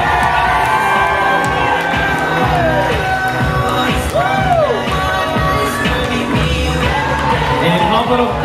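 Wedding crowd cheering, whooping and shouting as the bridal party walks in, a steady dense roar of many voices with children's yells mixed through, fairly close and continuous.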